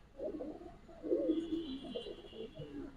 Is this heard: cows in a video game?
no